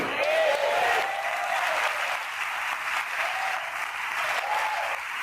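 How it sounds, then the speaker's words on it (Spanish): A church congregation claps steadily during a worship service, a dense, sustained wash of applause from a sizeable crowd heard at moderate distance, with faint cheering or voices mixed in. "Este aplauso es para el Señor"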